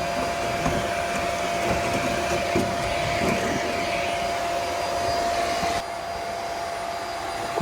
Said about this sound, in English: Just turn the vacuum off.